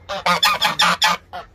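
Large farm geese honk loudly and close by, a rapid series of six harsh calls followed by one more after a brief pause.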